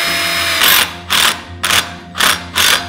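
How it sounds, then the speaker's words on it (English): A power drill drives a screw through a conduit bar into the wood of a small chicken coop, sounding five short, loud whirring bursts in an even rhythm with brief pauses between them, close up and without voices. "Just drill a hole 2 inches from the end, install the bar, and screw it in to keep it from sliding out."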